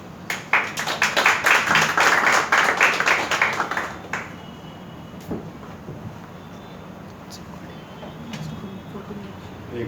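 A church congregation at a Sunday service claps together for about four seconds in a loud, rhythmic burst, then the sound fades to quiet room noise with a few scattered claps.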